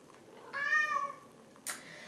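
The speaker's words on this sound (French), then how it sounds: "Chachou, tu miaules fort quand même là." A pet cat named Chachou lets out a single loud, drawn-out meow, close to the listener, followed by a brief rustling noise.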